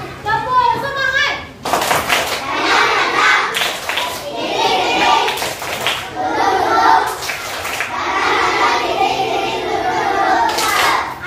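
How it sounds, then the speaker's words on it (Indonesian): A classroom of children claps a rhythmic spirit chant, bursts of loud, close group clapping alternating with chanted voices and a teacher's talk over the noise. "Tepuk semangat."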